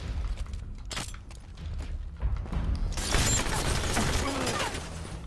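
Rapid bursts of battle rifle fire in a Halo 5 multiplayer elimination match, sharp repeated shots building into a dense, loud volley in the second half with clattering impacts and a faint voice underneath.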